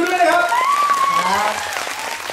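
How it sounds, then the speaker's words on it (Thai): Audience applause at a fan meeting, moderately loud clapping with excited voices and cheering rising over it throughout. "ขอเสียงปรบมือกับนัททิวด้วยนะครับ"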